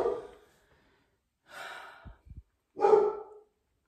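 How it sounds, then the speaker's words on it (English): Several dogs in a home give three short, breathy barks or huffs spaced about a second and a half apart, with soft thumps between them, moderately near and otherwise quiet. "My dogs never shut up."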